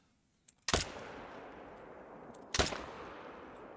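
Two sharp rifle shots ring out in the hunting game TheHunter: Call of the Wild, about two seconds apart, each a loud broadband crack followed by a rolling decay, with near silence before the first.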